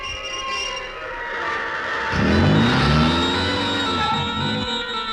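A car engine revs loudly as the vehicle pulls away and accelerates, its pitch sweeping upward through the gears, close and alone with no talking.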